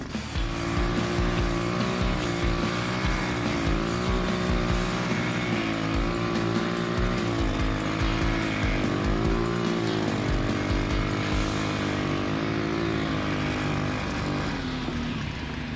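Homemade snow bike powered by a small 3-speed motor, its engine running loud and continuous throughout, pitch rising and falling as the revs change, with no talking.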